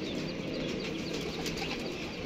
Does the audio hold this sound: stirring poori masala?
no